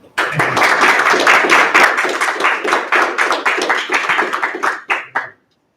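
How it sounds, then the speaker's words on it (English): One person at a county commissioners' meeting claps their hands close by, a steady rapid series of sharp claps lasting about five seconds before stopping. "I'm going to clap my hands"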